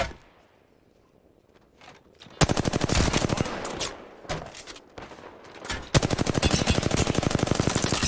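Rapid automatic gunfire in a first-person shooter video game as the player shoots an enemy, loud sustained bursts of closely spaced shots in two long runs broken by short gaps, after a quiet start.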